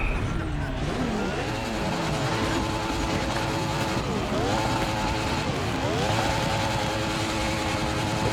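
Engine of a Kawasaki Ninja H2 superbike racing in The Crew Motorfest, loud and steady with repeated rising revs as it shifts through gears, over a continuous roar of road and wind noise.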